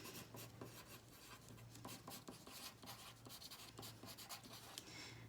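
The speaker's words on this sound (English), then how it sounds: "I would just use a pencil so it doesn't bleed through." A pencil scratches across the back of a sheet of paper artwork, a steady dry scraping that comes in short strokes with brief pauses, close and quiet, with no speech over it.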